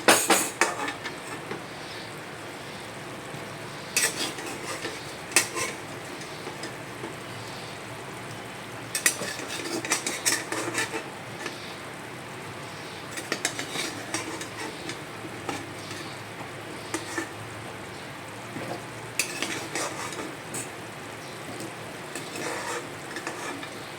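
Pre-fried potatoes are stirred into a sizzling mutton curry. A steady fry hiss runs under repeated scraping and clattering of the spoon against the pan, with no talking.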